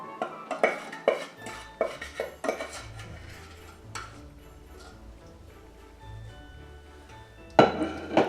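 Egg being worked quickly into gingerbread dough in a mixing bowl, with a run of sharp utensil knocks and clinks against the bowl at first, then quieter scraping and stirring under low background noise, before another burst of clatter near the end.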